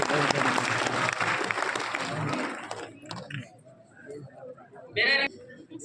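Loud, dense applause from a crowd at an awards ceremony in Bikaner, India, for about three seconds, fading out, followed by a short burst of clapping near the end.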